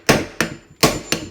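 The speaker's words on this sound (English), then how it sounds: "So we'll use the hammer." Four sharp hammer blows on a 1953 Pontiac Chieftain's generator field coil holder, each a bright ringing clang, spaced unevenly with short decays between, close and loud.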